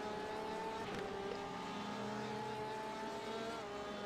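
Porsche race car in a GT race with Ferraris, BMWs and an Audi, its engine droning steadily at high revs on track, a continuous loud mechanical roar with shifting harmonic tones throughout.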